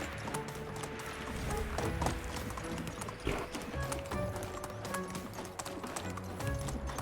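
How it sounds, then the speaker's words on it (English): Donkey hooves clip-clop steadily while riding toward a town in the video game Medieval Dynasty, a continuous rhythmic stepping set under faint ambient game sounds. "you can see how nice it is to ride to town on a donkey"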